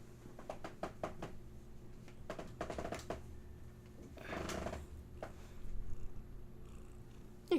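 Cat purring close by, a low soft rumble broken by bursts of tapping and rustling knocks, quiet and intimate with no speech.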